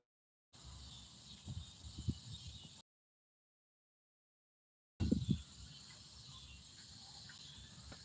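Cicadas or similar insects droning in a creekside park, a steady faint buzz broken by a gap of silence, with a few soft bumps and handling noises in the background.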